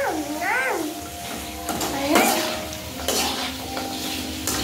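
Chowmein cooks in a pan with a soft sizzle and scraping stirs of a utensil, metallic clinks here and there, while people talk over it.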